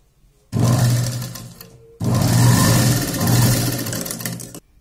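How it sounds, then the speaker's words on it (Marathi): Sewing machine stitching a blouse piping strip along marked notches, running in two continuous whirring bursts close by, the second longer and louder, with no voices over it. "याच्यावर आता आपण टिप मारून घेणार आहोत"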